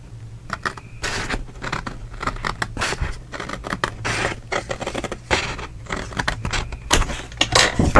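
Scissors cutting along a line on a sheet of paper, heard close by as a steady run of crisp snips and scraping rustles, repeated quickly and evenly with no voices.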